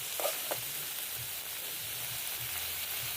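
Pieces of eel meat stir-fry in a hot pan for a spicy Thai dish, giving a soft, steady sizzle with a few faint stirring scrapes, heard alone and fairly quiet.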